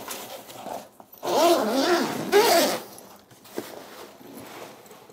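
A zipper opens the rear access panel of a Peak Design 45L travel backpack, first in short tugs, then two long, loud, close rasping pulls, followed by softer fabric handling.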